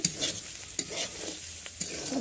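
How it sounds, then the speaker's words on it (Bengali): Vegetables for a vegetable chowmein frying and being stirred in a pan, giving a steady close sizzle with a few sharp scraping clicks from the stirring, and no voices. "ওদিকে সবজিটা ভাজা হচ্ছে"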